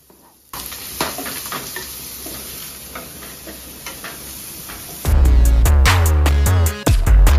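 Onions hit hot oil in a home kitchen pan during a pasta cooking contest, giving a steady sizzle with light stirring and clinks, then a louder burst of frying near the end.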